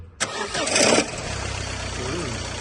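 A car engine cranks and fires with a loud burst, then settles into a rattling, ticking idle nearby while people talk over it.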